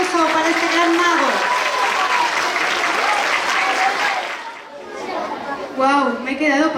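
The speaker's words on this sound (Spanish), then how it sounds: "Un fuerte aplauso para este gran mago." Loud audience applause and cheering for a magician at a school talent show, with excited voices and chatter mixed in. The applause dips briefly, then returns with shouts.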